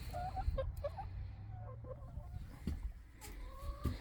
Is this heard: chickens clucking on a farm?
yes